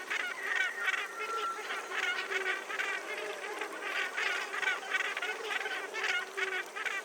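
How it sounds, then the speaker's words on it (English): A colony of Cape Gannets (Morus capensis) on the Namibian Skeleton Coast keeps up harsh, rhythmic honking calls. The many birds overlap in a busy, continuous chorus at moderate distance. "one of Africa's most extraordinary seabirds, the Cape Gannet, Morus capensis"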